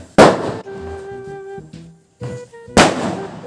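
Firecracker bombs set off during Diwali: two loud, sharp bursts, one just after the start and another near the end, with quieter tonal sounds in the gap between them.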